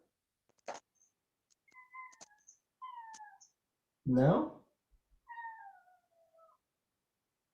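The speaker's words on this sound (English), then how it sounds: "My cat woke up." A cat meows several times during a video-call meeting, short rising and falling cries spaced apart, with one louder, longer yowl near the middle and a brief spoken word between.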